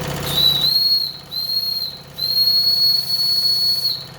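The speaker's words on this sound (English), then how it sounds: "Let's release the pressure a little bit." Steam venting from the pressure valve of a Wilesco D32 toy steam engine, overpressured well beyond its recommended level: a loud, shrill, steady whistle over hissing steam, broken by two short dips before sounding on to the end.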